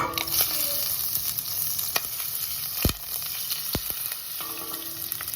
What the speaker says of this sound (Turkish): Şöyle biraz sıvı yağ koyalım. Biraz da tereyağımızı koyalım.